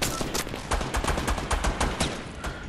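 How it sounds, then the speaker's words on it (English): Dense gunfire from many players in a Fortnite match, rapid overlapping shots crackling almost continuously at varying distances, some close and loud, with no talking. "there's so many people just shooting, I don't know where"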